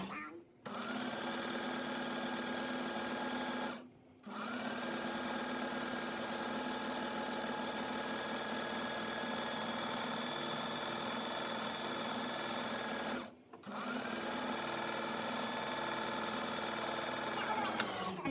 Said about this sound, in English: So we're going back now, and then we're just going to sew all the way